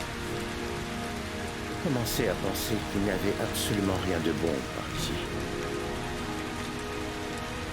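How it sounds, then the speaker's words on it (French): Steady rain falling in the video game Heavy Rain, a constant hiss beneath someone speaking French over the top for much of the clip. "Bah il pleut toujours quand même"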